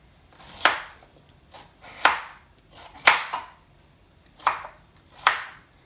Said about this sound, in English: we're just going to cut these potatoes up into cubes